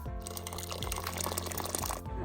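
Water pours steadily into a cooking pot for a couple of seconds, a continuous close splashing and filling sound with no talking.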